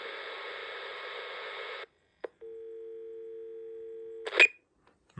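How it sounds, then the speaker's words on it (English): A vintage ROVA PRO cordless telephone handset hisses with static, clicks, then a steady continuous dial tone hums for about two seconds before a sharp click cuts it off. "you'll hear the static, and then it's gonna send a signal, wake up the base station, and you'll hear a dial tone"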